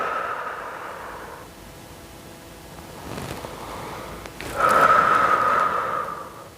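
Steady breathing during a home muscle-strengthening workout, soft airy inhales and exhales, with a louder, fuller exhale near the end, close and alone.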